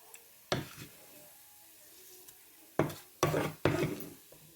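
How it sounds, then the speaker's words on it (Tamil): Yellow dal is tipped into hot oil for a lentil curry and stirred, with a few sharp bursts of scraping and sizzling against the pan between quieter pauses. "இப்போ நான் வந்து பருப்பு தறிக்க போடுவேன் எண்ணெயோட சேர்த்து போடுங்க"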